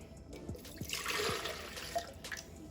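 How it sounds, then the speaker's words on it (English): Water pours and splashes into a blender for a couple of seconds, a bright gushing trickle with a few small knocks, faint and close. "we're going to start by adding a cup of water to the blender"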